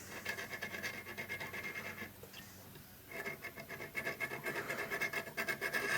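A flexible sandpaper strip rasps back and forth between the switch contacts of a 1976 Gottlieb Target Alpha pinball machine, a close, rhythmic scratching with a brief pause partway before the rubbing resumes faster.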